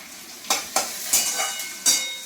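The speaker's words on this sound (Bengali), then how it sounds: "পেঁয়াজ এগুলো আমি ভালো করে একটু ভেজে নিই।" Onions and green chillies fry in a pan with a soft sizzle, broken by five sharp scrapes and clinks of a spatula stirring at an irregular rhythm, close by and without talk.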